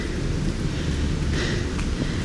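Rain pours steadily outdoors during a rainstorm, a dense, continuous hiss of water falling on surfaces, with a brief gust or heavier splash midway and no voices.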